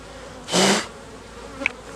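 Honey bees leave a queen marking tool in one short, loud burst of buzzing, followed by a faint buzz or tick, nearby and with no talking.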